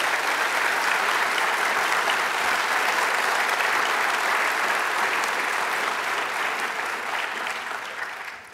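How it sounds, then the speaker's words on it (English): A large audience at a Veterans Day commemoration applauds a high school symphony orchestra and vocal ensemble, a steady, full wash of clapping that holds for several seconds before thinning slightly at the end. "giving another round of applause to the Santa Susana High School Symphony Orchestra"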